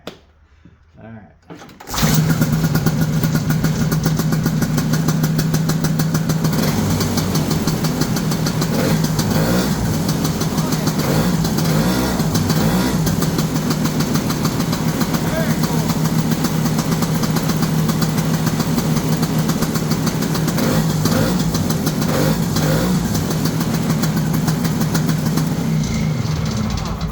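Vintage Ski-Doo snowmobile two-stroke engine catching and settling into a steady, loud, slightly knocking idle that runs continuously after a brief quiet start, with a voice speaking over it.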